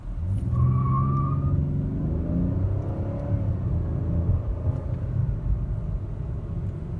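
A 2018 Cadillac XTS pulls away from a dead stop, its engine rumbling and rising steadily in a continuous, fairly loud drone that holds throughout, heard from inside the car.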